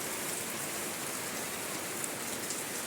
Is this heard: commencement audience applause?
no